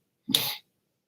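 A single short, sharp sneeze-like burst, close and fairly loud, lasting well under a second and followed by silence.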